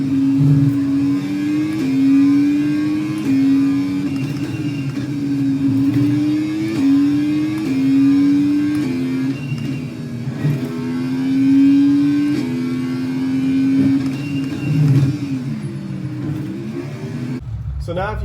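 Simulated race car engine in iRacing, revving up and down steadily through gear changes while driving, a continuous rising and falling drone throughout, with speech over it.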